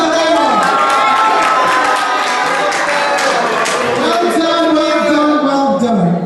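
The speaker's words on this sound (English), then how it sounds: "Round of applause for them." A lively crowd at a women's month celebration event cheers, claps and shouts with excitement, with voices whooping over steady clapping that stays loud and close.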